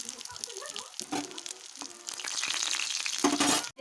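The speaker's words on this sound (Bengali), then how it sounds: "ভেজে নেব ভালো করে লাল করে" Soybean chunks frying in hot oil, a steady crackling sizzle broken by brief stirring scrapes, close and fairly loud, with no talking.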